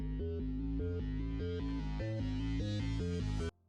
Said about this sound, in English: the second bass is a much noisier bass